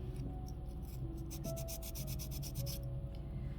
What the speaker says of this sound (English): fold the sandpaper and just scrub it inside the little lines that you've made